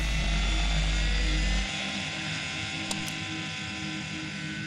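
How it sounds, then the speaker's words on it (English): A remote-controlled helicopter is fired up in a small Brooklyn, New York park, its steady high buzzing rotor whine filling the scene with a loud low rumble at the start that drops away. "fires up his remote-controlled helicopter at a small Brooklyn, New York park"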